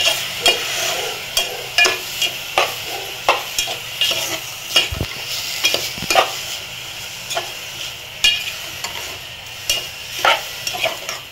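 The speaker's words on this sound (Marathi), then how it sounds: "आता हे 2-3 मिनिटं तुपावर भाजून घेऊ" Grated bottle gourd roasting in ghee in a pan for halwa, a continuous close sizzle punctuated by regular, fairly loud spatula scrapes and taps as it is stirred.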